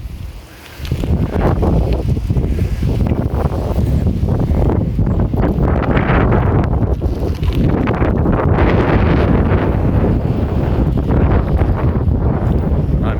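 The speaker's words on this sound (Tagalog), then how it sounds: "Ang lakas kasi ng hangin." Strong wind roars and buffets the microphone in a continuous loud rumble, gusting unevenly throughout with no pause.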